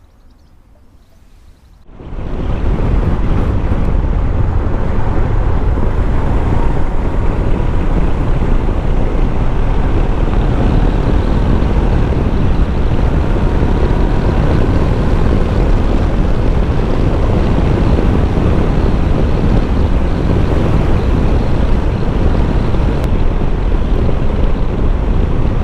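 Heavy wind buffets the microphone on a windy day while riding a Honda CB500X motorcycle fitted with a tall windscreen, a loud, continuous roaring rush that begins abruptly after a quiet start and stays constant.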